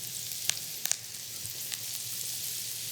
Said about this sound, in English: That's the sound you want to hear when you're frying mushrooms.